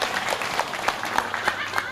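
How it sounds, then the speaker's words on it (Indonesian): An audience at an afternoon religious gathering claps in a fairly even, sustained round, with individual hand strikes standing out over a continuous wash. "tepuk tangan"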